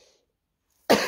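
A single sharp cough from someone who is sick, loud and close, bursting out abruptly after near silence.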